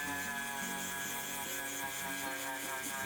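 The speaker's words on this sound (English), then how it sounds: "out comes the Dremel once more, and using a sanding attachment wheel, I get to work shaping the leather tips" A Dremel rotary tool with a sanding wheel whines continuously at high speed while shaping leather, a rough grinding texture, steady and close, no talking.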